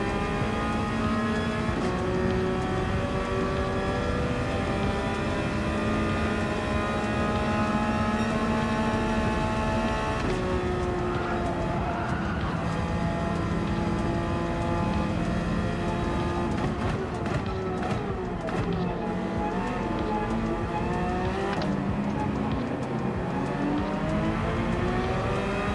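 Sustained engine drone of a Porsche race car in Gran Turismo 7, a steady harmonic whine held through the lap with shifting pitch as it accelerates and changes gear, loud and continuous with no talk.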